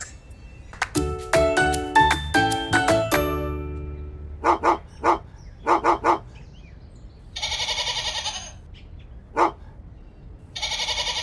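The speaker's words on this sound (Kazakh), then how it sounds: "Күшік." A puppy gives a handful of short, sharp yaps in quick bursts after a brief tonal jingle, followed by a few louder, rougher calls spaced apart.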